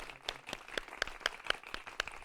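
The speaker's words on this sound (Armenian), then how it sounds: "Բրավո, ծափահարություններ։" A small group claps during a live morning music broadcast. The applause is thin and faint, with sharp individual claps in a loose, uneven rhythm over about two seconds.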